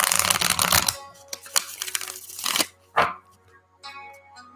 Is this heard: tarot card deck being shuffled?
yes